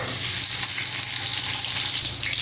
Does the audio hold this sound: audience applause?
no